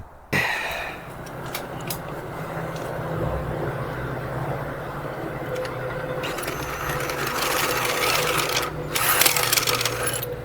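An electric drill bores into a part from a 1973 Harley-Davidson Sportster held in a vise, with a close, fairly loud whirring grind that rises toward the end, broken by a few sharp clicks and knocks.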